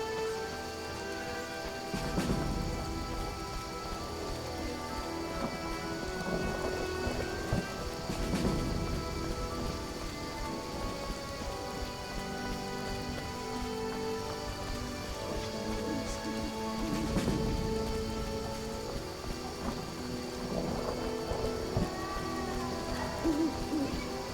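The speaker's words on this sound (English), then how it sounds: "It rains and it pours." Steady rain pours in The Witcher video game, a continuous wash of rainfall with occasional heavier bursts and distant rumbles, no talk over it.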